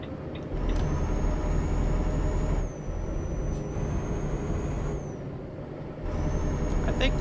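Heavy truck engine droning loud and steady in Euro Truck Simulator, a tanker rig hauling ethane, with a brief dip in power before holding a constant rumble and a faint whistling tone above.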